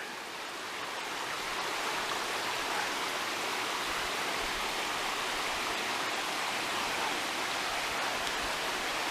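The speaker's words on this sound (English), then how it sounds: "Here's Mill Prong Creek right there." Mill Prong Creek in Shenandoah National Park runs steadily, a close, loud, continuous rush of flowing stream water with no voices, even throughout.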